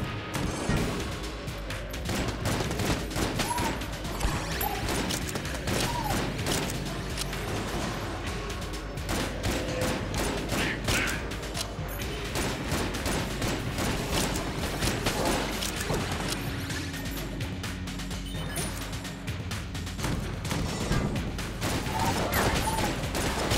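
Continuous rapid weapon fire and crashing impacts fill an Enter the Gungeon room-clearing fight, a dense, loud barrage of shots and small explosions that never lets up across the whole stretch.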